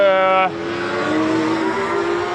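Racing sidecars scream past on a circuit at a first corner, a loud engine note sliding down in pitch as they pass, followed by a steady roar of other machines under a commentator's voice.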